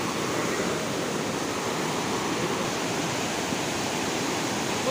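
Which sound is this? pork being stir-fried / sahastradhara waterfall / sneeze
sahastradhara waterfall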